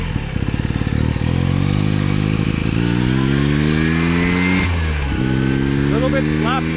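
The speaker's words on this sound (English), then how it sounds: "A little bit sloppy at the low end, like a 2-stroke, until that rotor gets going." A 1975 Hercules W2000 rotary-engine motorcycle on original tires, riding and winding up through the gears with a loud, close buzzing engine tone that rises in pitch, drops at a shift and climbs again.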